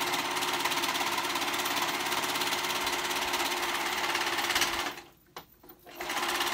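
A sewing machine stitches a hoodie, running in a fast, steady mechanical chatter up close for several seconds before stopping abruptly, with a few small clicks, then starting again.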